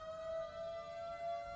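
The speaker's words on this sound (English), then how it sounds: "You hear the sirens, that's our Lakeland Fire Department." Lakeland Fire Department sirens pass during an MLK parade in Florida: a steady, sustained wail held at one pitch, faint and somewhat distant, with no talk.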